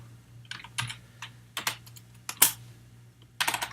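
Keys clack on a computer keyboard while C++ code is typed, a few scattered taps and short rapid bursts with pauses between, close and fairly crisp.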